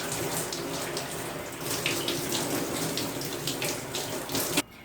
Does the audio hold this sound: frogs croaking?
no